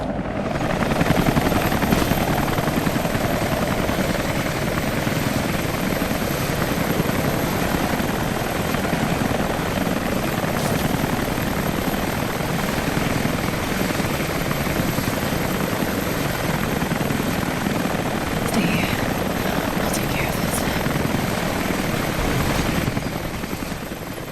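Sustained helicopter rotor and engine drone from Rise of the Tomb Raider, loud and steady with a thumping low rumble throughout, no voices over it.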